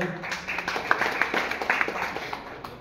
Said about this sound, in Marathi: जोरदार टाळ्या होऊ द्या.